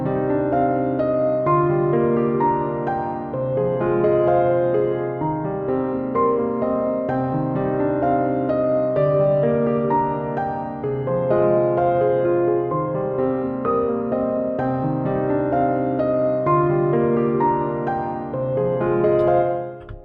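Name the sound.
realistic piano arrangement with melody and counter melody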